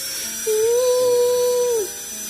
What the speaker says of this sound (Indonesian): Begitu bunyi bornya.